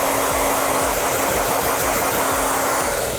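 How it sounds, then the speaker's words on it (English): A hair dryer blows steadily and loudly throughout while a man's classic crew cut is given a quick blow dry, its continuous rushing airflow carrying a faint motor hum. "So I'm going to just give him a quick blow dry here,"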